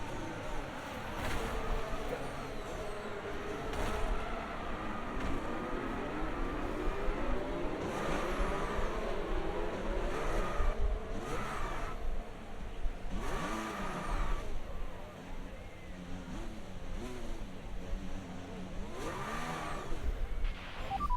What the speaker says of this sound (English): Okay, the tyre has shredded.